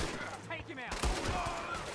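Burst of gunfire in the Red Dead Redemption 2 video game, a sharp loud crack around the one-second mark amid steady background noise, with a voice speaking just before.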